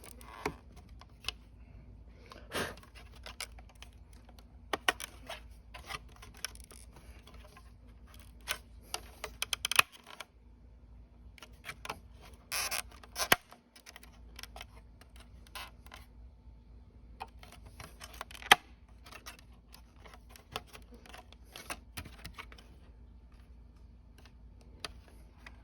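Plastic handlebar cover clips on a Honda C125 Super Cub snapping into place, scattered sharp small clicks and plastic ticks spread over a quiet stretch, close by, with no voice.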